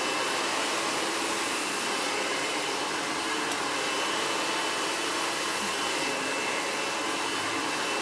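A hair dryer runs on its highest airflow and high heat setting during a textured-hair blowout, giving a loud, steady, broadband roar that holds unchanged for the whole stretch with no talk.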